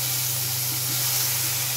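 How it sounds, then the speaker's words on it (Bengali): Loitta fish fries slowly in a pan with a steady, close hiss of sizzling oil over a low hum, with no break in the sound. "এই যে সুন্দর করে আস্তে আস্তে করে ভাজি করব আমি।"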